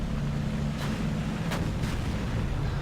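Tank guns fire in the World of Tanks video game: a few distant booming shots rise over a constant low engine rumble, with no voices.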